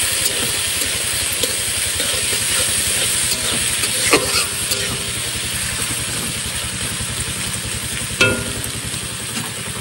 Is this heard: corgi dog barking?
no